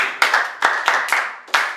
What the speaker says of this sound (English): Okay, clap for her.